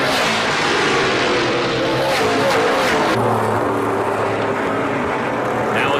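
NASCAR Canadian Tire Series stock cars, including a Mopar Dodge, run three wide down the backstretch at Delaware Speedway in the 2012 EMCO 200, a steady loud engine roar with a lower drone taking over midway.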